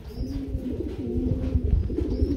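A Russian Andrup pigeon coos nearby at a pigeon farm, a soft, low, throaty warble that repeats in rolling phrases with little else around it.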